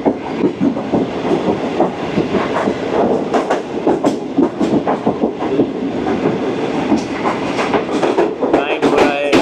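The Greenline express from Karachi to Rohri rolls along the rails as it overtakes the Millat Express at a station, heard from on board as a loud, steady rattle of rapid clickety-clack wheel beats.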